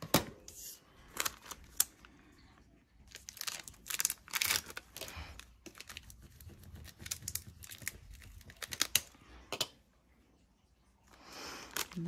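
Scissors cut out a paper Christmas wine tag, making irregular snips and crisp paper rustles close by and at low volume, with brief pauses between bursts and no talking.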